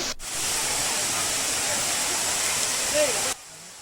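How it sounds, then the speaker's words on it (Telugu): Talakona Waterfalls near Tirupati roars close by in a constant, dense hiss, with a faint voice surfacing briefly before the sound cuts off abruptly. "ఇదేనండి డైరెక్ట్గా వాటర్ ఫాల్ పడే ప్లేస్ అది"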